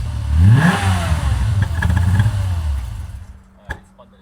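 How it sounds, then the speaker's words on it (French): A tired starter motor on a Golf VR6 cranks with a strained, uneven churning for a few seconds, loud and close, then a brief clunk as it stops, leaving near silence. "le démarreur est vraiment fatigué"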